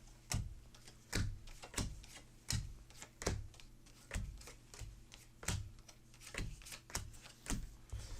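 Playing cards are dealt into hands during a tabletop card game. About a dozen crisp slaps and flicks land one after another in a steady rhythm, close and fairly quiet, with no talking.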